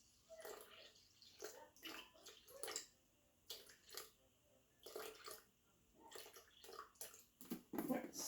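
Bottled spring water, 700 grams for a double batch of sourdough, is poured at close range in a series of short splashing bursts separated by brief pauses, with no talking.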